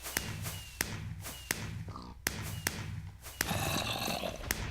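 Fireworks go off in Minecraft as a series of sharp, evenly spaced bangs, about eight in all, each followed by crackling sparkle, with a denser burst near the end. Someone talks quietly underneath.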